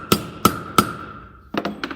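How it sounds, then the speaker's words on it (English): Hammer tapping a punch against a brake pad rivet held in a small vise, CCKW truck brake pad work: three sharp, evenly spaced metallic strikes with ringing decay, then a quicker cluster of lighter taps, close and loud. "then there's your punch. You just want to get that right centered in there, and then you're going to give it a couple of taps"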